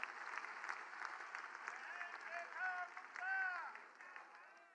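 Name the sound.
audience applause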